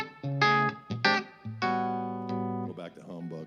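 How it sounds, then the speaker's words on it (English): An electric guitar played through coil-tapped humbucker pickups gives a thinner, quacky tone, a few short notes followed by a longer sustained note and a quick closing run. "can coil tap these rascals and sound like this"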